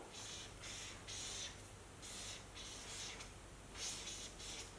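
Pen or pencil scratching across paper as letters are written, a run of soft, close scratchy strokes that come in short bursts with brief pauses between them, quiet and steady with no talking.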